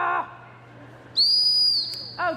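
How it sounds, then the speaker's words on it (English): Gundog training whistles blown at the same time at a Crufts gundog display, a single sustained high shrill blast of about a second, with a brief voice before and after. "Oh, 2 whistles,"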